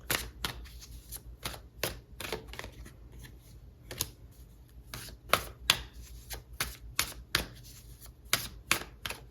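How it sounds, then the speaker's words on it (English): Tarot cards are shuffled by hand in quick bursts of crisp riffling snaps, irregular clusters of close sharp clicks with quiet gaps between them. "Give them a good shuffle"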